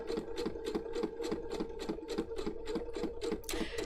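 A sewing machine fitted with an open toe foot stitches in a fast, steady mechanical rhythm of even, close thumps, running on its own without talk.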